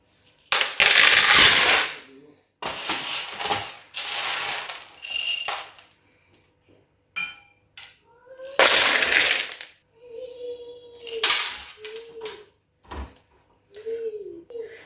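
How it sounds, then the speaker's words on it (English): Dry honey beans pour and rattle into a glass cup in several loud, close bursts of clattering, separated by pauses, with a voice talking between the pours. "I'm going to be measuring the beans with this glass cup"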